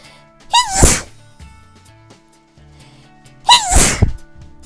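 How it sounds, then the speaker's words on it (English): Two loud, sharp human sneezes close to the microphone, each with a rising breathy intake followed by an explosive burst, spaced about three seconds apart with quiet in between. "I feel a sneeze coming on"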